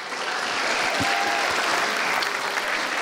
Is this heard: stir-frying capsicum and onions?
no